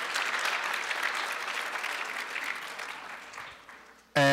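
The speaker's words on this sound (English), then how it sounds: "Another round of applause." An audience at a student and faculty show applauds steadily for a few seconds, dense clapping that fades toward the end before a brief voice cuts in.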